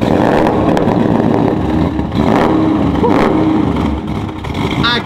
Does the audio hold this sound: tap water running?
no